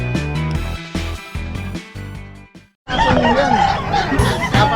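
A brief musical passage ends, then a crowd of fighting roosters crows and clucks at once, loud and overlapping, several birds close by.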